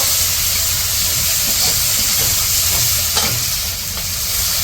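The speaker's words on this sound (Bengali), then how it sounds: "এখন একটা আদা রসুন বাটা দিয়ে দিব।" Ginger-garlic paste hitting hot oil in a wok over fried onion, green chili, turmeric and chili powder for a village-style pangas fish curry, giving a loud, continuous close sizzle with faint stirring scrapes throughout.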